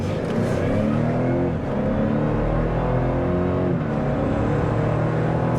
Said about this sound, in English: see what kind of pickup and acceleration we can do over here